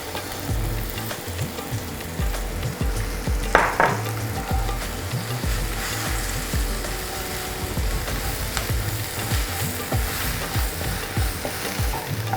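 Drumstick leaves with turmeric fry in a hot pan and are stirred, making continuous sizzling with repeated scraping strokes and one brief clink of a utensil.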